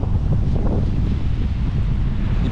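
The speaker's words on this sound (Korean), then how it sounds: "이 바람 소리와 파도 소리 들리시나요?" Strong wind and crashing ocean waves on a coast during a typhoon, heard from a camping spot beside a parked Kia Carnival: a loud, continuous roaring rumble with buffeting gusts hitting the microphone and no voices.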